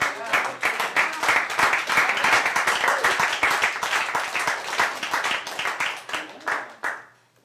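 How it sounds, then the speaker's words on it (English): Sustained round of applause from an audience at a 1999 cultural society annual general meeting, dense steady clapping across the room that tapers off and fades at the end. "Round of applause."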